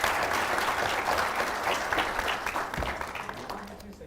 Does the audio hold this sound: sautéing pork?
no